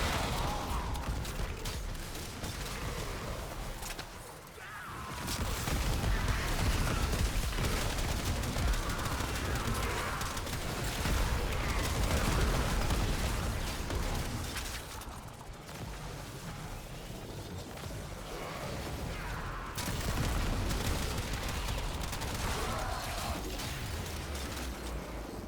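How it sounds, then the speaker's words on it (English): Shotgun in Warframe firing like a rifle: sustained loud, rapid automatic fire with mechanical clatter, running almost continuously over a dense game soundscape with only brief pauses. "I love that this says it's a shotgun, but it kind of behaves like a rifle."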